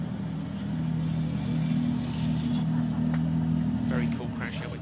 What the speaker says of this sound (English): Here is Nürnberg pulling into the Parc Ferme area.